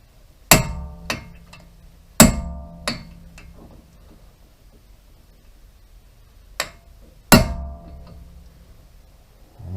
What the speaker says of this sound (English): I'll snap it with the hammer and hopefully these start to turn